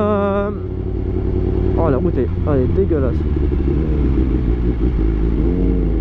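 A BMW S1000RR sport motorcycle runs on a rough road with a steady low engine drone and a rev swell near the start, with a rider talking over it throughout.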